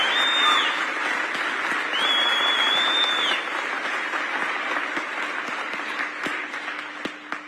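An audience breaks into sustained applause, a thick, even wash of clapping from many hands that holds steady and tapers slightly toward the end, with a couple of brief whistles rising over it early on.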